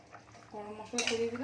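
A spoon stirs chicken curry sprinkled with garam masala in a metal pan, giving a short run of scraping and clinking against the pan that grows louder toward the end. It sounds faint and close, with no talk.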